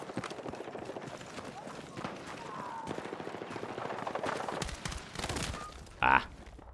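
Gunfire in the video game Battlefield 6 comes as quick bursts of rapid shots amid footsteps and battle noise, with a louder sharp blast near the end, while a player talks over it.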